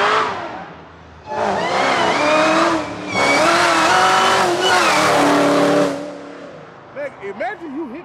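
A 1975 Chevrolet Caprice Classic with a swapped LT4 V8 and a 10-speed transmission revs hard in loud, sustained bursts with rising and falling pitch, then drops away as people talk over its idle.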